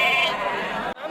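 A young goat kid about 25 days old bleats loudly and close at a busy goat market in Thirumangalam, Madurai, one sustained wavering cry that cuts off abruptly.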